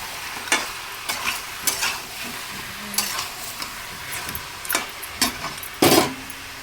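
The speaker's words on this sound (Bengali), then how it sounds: "মাংসটা কষে যাচ্ছে, যে তেল ছেড়ে গেছে দেখুন। আলুটা দিলাম এখন।" Chunks of meat sizzle in released oil in a pan as Chandramukhi potatoes go in. Steady frying hiss runs throughout, broken by about a dozen sharp scrapes and clatters of stirring, with no talking.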